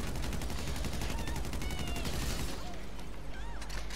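Gunfire in GTA 5 Online, a steady stream of rapid close-range shots cracking over dense game noise, continuing for the full few seconds without pause.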